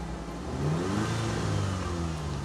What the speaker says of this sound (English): I could see if I change the revs